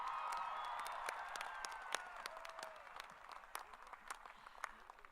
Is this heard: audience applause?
yes